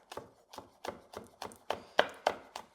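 A knife slices a hot pepper on a cutting board for Thai basil chicken, making about nine evenly spaced crisp chops in a steady rhythm, close and clear with no talking.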